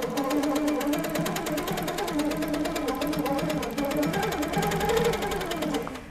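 A quilting machine stitches on a Little Foot quilting frame in regulated cruise mode at six stitches per inch, a steady, fast mechanical whirring hum with rapid ticking that runs loud and close for the whole stretch with no talk.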